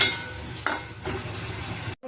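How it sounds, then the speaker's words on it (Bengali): Egg curry masala is stirred and fried in a pan, making a soft continuous sizzle with a spoon scraping and tapping against the metal at intervals, close and moderately loud, with no voices. "ততক্ষণ অবধি কিন্তু পরিমাণ জল দেবো আর ভালো করে নেড়ে ছেড়ে কষিয়ে নেবো"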